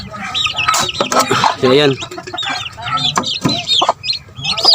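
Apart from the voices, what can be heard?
chickens clucking and squawking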